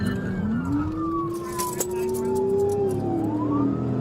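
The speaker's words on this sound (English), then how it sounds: "ignoring lights and sirens" A police car siren wails during a chase, its rising and falling tone sweeping loudly and steadily over engine and road noise throughout, with no talk.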